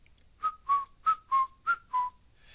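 A voice whistles six short, bright toots in a quick, slightly uneven rhythm, imitating a train whistle, close and clear with no talking.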